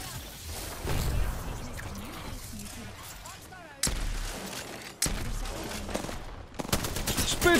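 Rapid automatic fire from a Spitfire light machine gun in the Apex Legends video game, sharp bursts crackling over dense in-game combat noise with several abrupt loud onsets, while a player talks.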